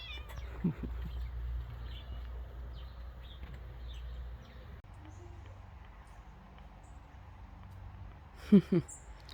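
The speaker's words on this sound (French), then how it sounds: "Oh, mon chat." A cat meows faintly a couple of times early on, then gives two louder, closer meows near the end over a low background hum.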